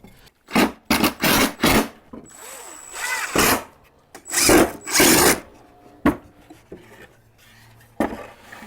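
Power drill driving screws into antique furniture being repurposed as a vanity, several short loud bursts of whirring in quick succession with pauses between, close up, with brief rubbing and handling noises.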